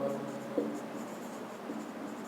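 Pen or marker scratching steadily across a writing surface as chemical element names are written out during a Class 11 chemistry lesson; soft, continuous strokes with one slightly louder tap, no voice.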